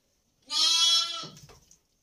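On a farm, a single goat gives one loud, nearby bleat lasting under a second that trails off into a quieter rasp, with no one talking.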